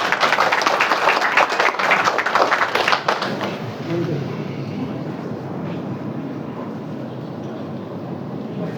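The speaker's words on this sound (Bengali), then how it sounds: "সবাই একটু করতালির মাধ্যমে স্যারকে আমন্ত্রণ।" An audience applauds to welcome guests onto the stage at a refrigerator launch event, a dense burst of clapping that fades after a few seconds into a roomy murmur.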